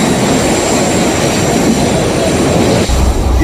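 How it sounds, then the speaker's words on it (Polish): A car carried on a train through a tunnel in Switzerland gives a loud, steady rolling rumble and hiss of rail travel with a faint high whine, heard from inside with no talking. "przejazd przez Szwajcarię pociągiem przez tunel do Włoch"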